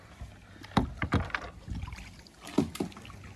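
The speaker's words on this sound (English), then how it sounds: "I'm paddling one handed." A canoe paddled one-handed on a lake, with a few distinct splashing strokes and knocks against the hull in an irregular rhythm, close and moderately loud.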